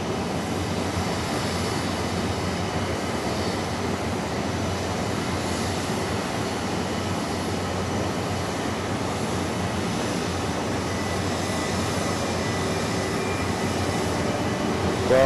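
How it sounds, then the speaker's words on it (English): A Dornier 228 turboprop taxiing at Zurich Airport, a steady broadband engine drone that holds constant and fairly close for the whole stretch, with no talk over it. "The Dornier 228's taxiing as well now, Eddie, so we're doing good"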